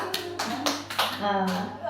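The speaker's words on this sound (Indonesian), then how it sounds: "Tepuk ke depan sekali." A group of teachers in a school meeting claps together once, a single short burst among scattered hand taps, with people talking over it.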